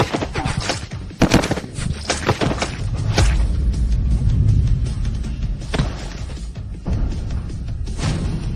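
Loud gunfire with rapid bursts and single shots, dense and chaotic, with heavy thuds mixed in throughout.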